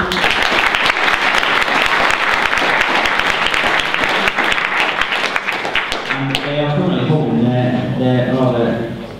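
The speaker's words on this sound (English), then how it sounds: "So a round of applause for Rachael." A large audience at a sports science Q&A event applauds loudly and steadily for several seconds, then the clapping fades as voices and music take over near the end.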